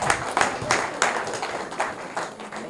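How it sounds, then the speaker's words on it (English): A gathered audience at a political event applauds a guest of honor with a steady patter of close hand claps, the individual claps rising and falling in small waves. "Can we give her a round of applause?"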